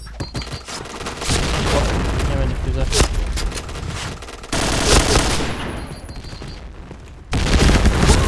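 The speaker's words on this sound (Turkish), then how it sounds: "Şimdi şu sol tarafa bir tane bomba atalım" Grenade tossed and detonating in the online shooter Point Blank, with loud bursts of automatic gunfire and booming blasts in a continuous noisy firefight, sharp explosive surges near the middle and end.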